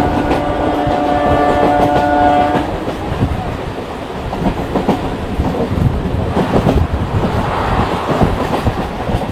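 A Digha to Howrah local train rolls along on the rails, its steady rumble and clatter close and loud throughout, with a sustained tonal whine fading after the first couple of seconds and the clacking growing busier later.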